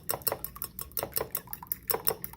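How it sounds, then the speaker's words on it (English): Rapid clinking of a whisk or utensil against a bowl as eggs are beaten by hand for blueberry sour cream muffins, a steady series of close, bright taps with no talking. "I'm gonna whisk it in the bowl"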